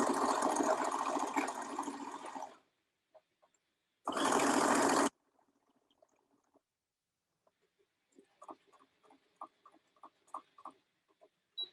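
A sewing machine top stitches the seam allowances of a child's dress in two loud, close runs, the first lasting over two seconds and the second about one, followed by faint scattered ticks.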